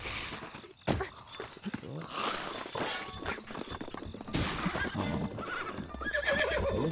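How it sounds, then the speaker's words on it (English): A horse in Zelda: Breath of the Wild neighs and whinnies, with clip-clop hoofbeats and footsteps, close and fairly quiet, mixed with other game effects. "Look at the horse."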